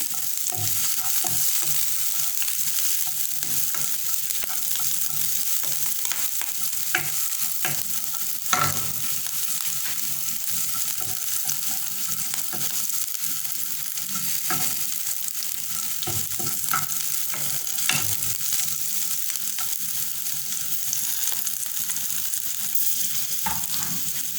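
Chicken bites with chili pieces sizzle and fry in a pan while being stirred, a steady hiss broken by occasional scrapes and clinks of the spoon.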